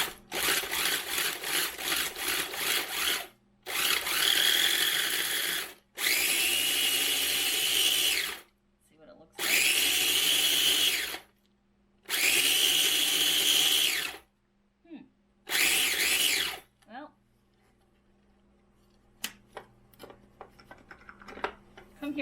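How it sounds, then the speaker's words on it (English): A small electric food processor blends pumpkin pie filling in several loud whirring bursts of a few seconds each, separated by brief pauses, followed by quieter clatter and handling. "instead of taking a blender out, I'm going to do this in this little food processor"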